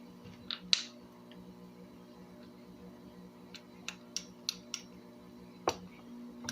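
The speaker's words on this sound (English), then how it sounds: "That's actually just the squeak of the plastic rubbing against each other there." Plastic joints of a Marvel Legends Armadillo action figure squeak and click in a sparse series of sharp little ticks, a couple near the start and a cluster later, quiet and close with no voices.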